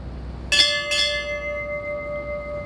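Ship's bell struck twice in quick succession at the USS Arizona Memorial Garden at Salt River, each loud ringing strike followed by a long, slowly fading metallic hum, with no voices over it.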